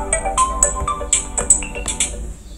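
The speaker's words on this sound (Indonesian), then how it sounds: "Dan juga akan munculkan suara alarmnya." An Android phone alarm ringtone plays a bright, repeating melodic pattern of short chiming notes, loud and close.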